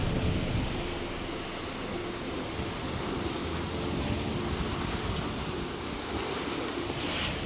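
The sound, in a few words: sea waves breaking over sailboat bow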